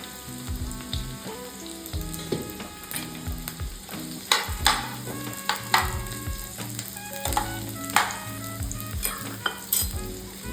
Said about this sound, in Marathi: हे 3 कांदे आहेत ते मी छोट्या छोट्या पीसेसमध्ये कट केलेले आहेत आणि आपल्याला हे फ्राय करून घ्यायचं आहे